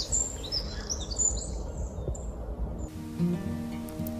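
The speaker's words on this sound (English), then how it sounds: "And here is the bright song of a wren." A wren delivers a bright, rapid, high-pitched trilling song for about a second and a half, then falls silent, leaving only a low steady background hum.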